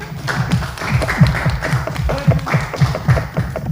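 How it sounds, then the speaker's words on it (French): Audience clapping in a studio during a music talk show, a lively run of hand claps with a rhythmic, close feel and some low thumping underneath, with voices present. "Oui, on l'applaudit quand même."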